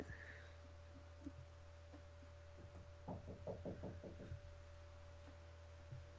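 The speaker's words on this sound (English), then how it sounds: "I could just walk over and knock on his door, and you could hear that" A quick run of about eight knocks on a door, evenly spaced and moderately soft, heard over a steady low hum in a quiet room.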